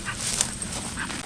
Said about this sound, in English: Look at that dirty dog!